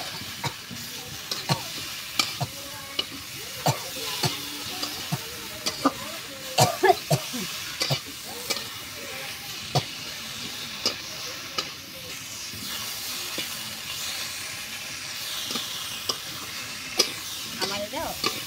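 Eggs and potatoes fry and get stirred in a spice masala, with steady sizzling and frequent scraping, clattering stirs close by, no talk over the cooking.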